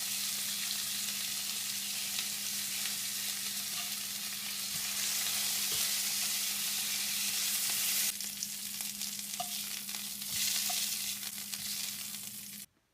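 Venison steaks sizzle steadily in a hot skillet for four to five minutes, a dense, continuous hiss close by with a faint low hum underneath and occasional small pops, no talking.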